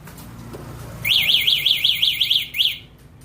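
A car alarm sounds in a rapid warbling electronic siren that rises and falls repeatedly for about a second and a half, breaks briefly, then gives one more short burst, heard clearly at moderate distance.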